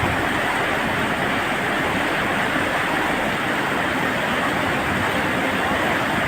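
Mountain stream water rushing down from Soq Valley near Upper Kachura, Pakistan: a loud, steady, unbroken roar of fast-flowing water, close by and with no voices.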